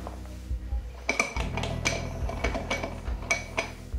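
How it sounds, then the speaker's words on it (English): A utensil stirs colloidal silver solution in a glass, giving repeated light clinks and taps against the glass in an uneven rhythm, close and fairly clear. "Just going to give it a quick stir."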